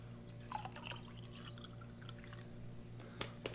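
Hot water poured into a 2017 Russian RPS 24-hour survival ration, heard as faint, scattered drips and trickles over a steady low background hum.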